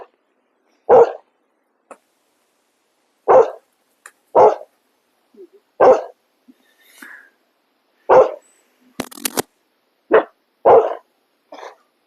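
A dog barks repeatedly in loud, separate single barks spaced a second or two apart, with brief faint noises between them and no talk over it.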